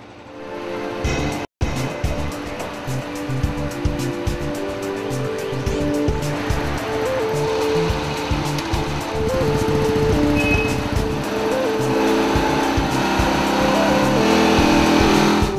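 A Royal Enfield motorcycle runs on a roller dynamometer inside the factory, its steady engine thrum and whirring rollers filling the space at loud, constant level, with a brief cut near the start.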